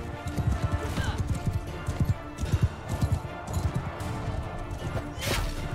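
Horse hooves in Mount and Blade Bannerlord, a quick irregular run of close clip-clop thuds amid battle noise, with occasional crashes and a brief whinny-like burst near the end.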